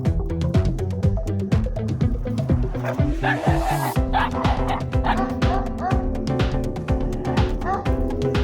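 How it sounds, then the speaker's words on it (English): An alabai puppy barks and yips repeatedly over steady, busy music, the barks close and insistent throughout. "while leaving the last word for herself by barking at Juja."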